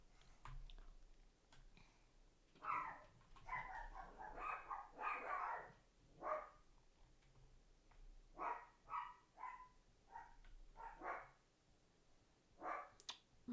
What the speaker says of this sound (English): More barking dogs.